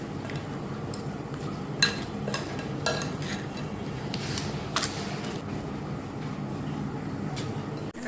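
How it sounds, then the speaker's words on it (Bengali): Potato chips being tossed and mixed with mayonnaise in a bowl for Bengali chips makha: soft, steady stirring and rustling with occasional sharp clinks of a utensil against the bowl, close and fairly quiet. "সুন্দর করে মাখিয়ে নিতে হবে এই যে মেয়নিসটা ভালোভাবে মিশে যাচ্ছে"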